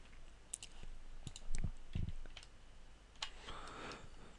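Scattered computer mouse clicks in quiet surroundings during 3ds Max modelling, a handful of sharp, faint taps spaced irregularly, with a couple of slightly heavier knocks in the middle and no talking.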